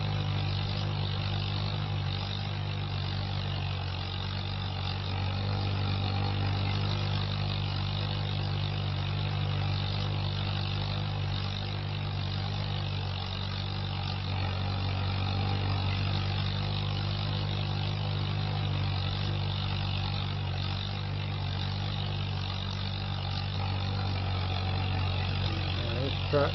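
A farm tractor engine running steadily while drilling winter crops, a continuous low droning rumble with constant strong low tones, unchanging throughout.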